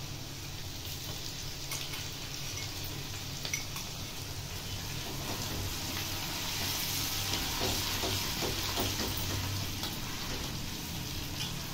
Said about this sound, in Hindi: कुटा हुआ जो लहसुन दिखे उसे हम डाल देंगे।